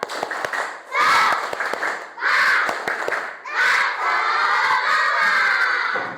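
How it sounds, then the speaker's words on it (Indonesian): A class of students follows the teacher in a tepuk semangat clapping chant during an Indonesian lesson. It comes as three short bursts of shouted chanting and claps, then a longer sustained one, loud and close, with children's voices throughout. "mari kita tepuk semangat"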